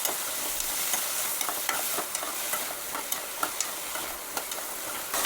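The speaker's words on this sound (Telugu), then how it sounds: "ముందుగా మనం కట్ చేసి పెట్టుకున్నాం కదా క్యారెట్ ముక్కలు, అవి వేసేసుకోవాలి. ఈ మొత్తం ఆయిల్లో కలిసేటట్టుగా కలిపేసుకోవాలి." Carrot pieces fry in hot oil with a steady bright sizzle, while a spoon scrapes and stirs them in irregular clicks.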